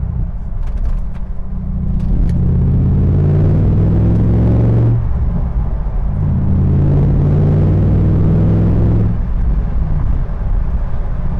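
A 2016 Morgan Aero 8 Roadster engine roars close by through side exhausts, rising in pitch through two strong revving pulls with a deep, throaty exhaust burble between them.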